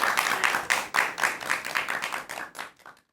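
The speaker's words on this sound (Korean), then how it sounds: "여러분 큰 박수 부탁드립니다." An audience claps at a laughter-therapy lecture, a dense burst of hand claps that comes in rhythmic waves and then thins out to a few last claps before stopping, with no talking.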